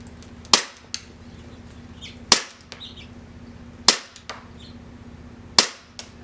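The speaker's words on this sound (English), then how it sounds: "we're moving on to Glock now with CO2" An Elite Force Glock 17 airsoft pistol with a CO2 magazine fires four loud, sharp shots, spaced a couple of seconds apart, each followed by a brief metallic echo.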